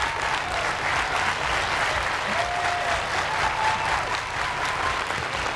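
A standing crowd applauds and cheers at a men's beach volleyball final in Salt Lake City as a team reaches championship point, a dense, steady wash of clapping heard from a distance.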